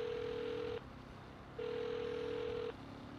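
Phone ringing on a call in Saints Row, two long electronic ring tones separated by a short pause, steady and moderately loud over quiet background hum.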